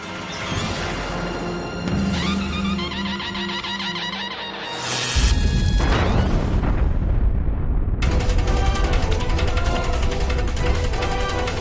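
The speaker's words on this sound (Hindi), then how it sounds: "ये तो तोप के गरजने की आवाज है।" Heavy cannon booms and rumbling crashes, loud and dense, with a rising clamor of explosive impacts through the second half, like cannons firing in battle.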